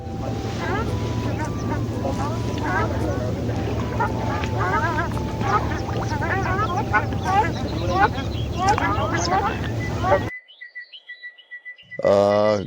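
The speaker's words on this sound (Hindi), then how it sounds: "रंग बिरंगे पंछी यहाँ पर अपने कलरव से इस पूरे माहौल को संगीतमय बना देते हैं।" A dense chorus of wetland birds calls and chirps at Maguri Beel, with many overlapping calls over steady wind and low boat-like rumble, then thinning to a few sparse, nearer calls near the end.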